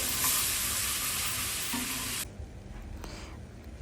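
Curry paste for paneer butter masala is stirred with roasted garam masala in a hot pan, giving a bright continuous sizzle with scraping, which cuts off abruptly halfway and leaves a quieter, lighter rustle.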